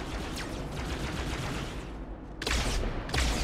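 Rapid bursts of gunfire from Halo 2 Anniversary weapons, a dense continuous volley that swells into two louder, sharper bursts near the end, loud and close with no talk.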